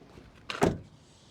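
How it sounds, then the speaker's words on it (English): A door of a 2023 Toyota Camry TRD sedan swings shut with one firm, solid thud, heard up close, preceded by a brief latch click and followed by quiet. "let's listen to the door closing"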